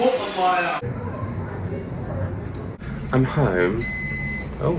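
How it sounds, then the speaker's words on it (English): An electric kettle at home gives a high, steady electronic beep near the end, sounding over a voice as she arrives and speaks. "that's the kettle"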